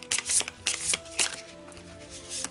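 Tarot cards are shuffled and drawn for a cross spread, making a quick run of crisp riffling bursts and soft slaps close to the microphone, with faint tonal music underneath and no talking.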